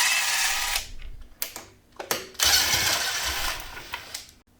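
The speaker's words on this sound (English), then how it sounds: "For this assembly I'm gonna use impact wrench to make the things quicker." An impact wrench removes the three front fender screws on a Talaria electric dirt bike, giving several short loud whirring, rattling bursts separated by brief pauses, close up with no talking.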